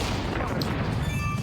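A homing weapon explodes in the video game Agent Hugo: RoboRumble, a dense, loud burst of booming blasts filling the whole moment with continuous rumbling noise.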